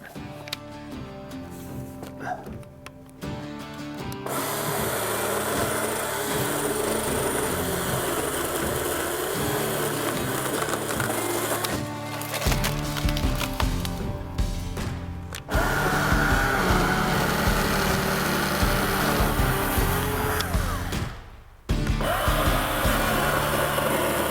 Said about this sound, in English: All right, let me go out and try to cut some limbs up.